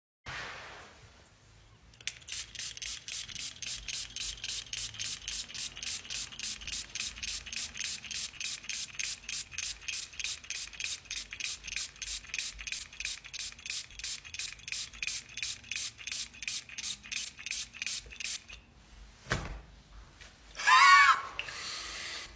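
Rapid, evenly spaced spritzes of an expensive cologne run in a long, steady burst, with a short sharp breath near the end.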